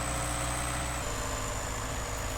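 A slow tractor in a farming video game hums with a steady, even engine drone that stays constant without revving. No talking is heard.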